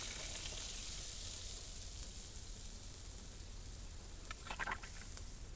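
Chicken curry sizzles in a pan just after water is poured in, a continuous soft hiss and crackle with a brief burst of louder spattering near the end.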